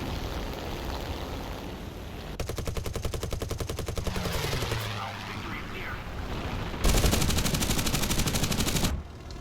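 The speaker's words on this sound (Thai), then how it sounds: "ยิงโคตรยากเลยฮะ กระสุนก็หมดง่าย" Aircraft machine guns in War Thunder rattle in two long, loud, rapid bursts separated by a quieter stretch of engine drone, with someone talking over the action.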